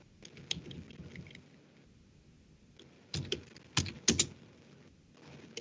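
Keystrokes tap on a computer keyboard while a sudo command is entered, sparse clicks early, then a pause, then a louder cluster of sharp taps near the end.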